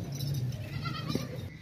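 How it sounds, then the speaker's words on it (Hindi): A nanny goat kept with her kids and raised for milk gives a short, wavering bleat near the start, close by. The call then fades into steady farmyard background noise. "वो बच्चे वाली बकरी चेक करें, दोनों साथ इसके बकरे हैं"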